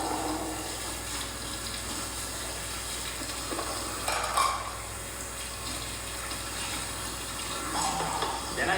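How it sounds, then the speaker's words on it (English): Hot water running from a tap to rinse out a hummingbird feeder, a steady close hiss of flowing water with brief louder splashes as the stream hits the plastic. "I empty the old nectar out of it, and I give it a good rinse with hot water"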